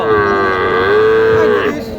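A cow at a cattle market in Naogaon, Bangladesh gives one long, loud, close moo lasting nearly two seconds, with a low murmur of market noise underneath.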